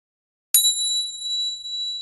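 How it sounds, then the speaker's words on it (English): A bell on a machine gives a single crisp, bright strike that rings on as a clear, steady sustained tone in an otherwise quiet room. "A bell rang on one of his machines"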